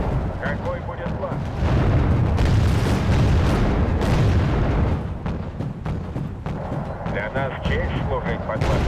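130 mm naval guns in a Wargame: Red Dragon naval battle fire in a dense run of heavy booms and rumbling blasts, loud and continuous, with speech in places.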